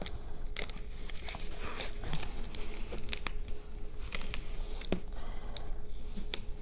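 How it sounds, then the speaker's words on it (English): Packing tape peeled and crinkled off a wrapped diamond painting kit, a close, continuous rustling and crackling run with sharp tearing snaps scattered throughout, no voices. "And we're gonna get the tape off."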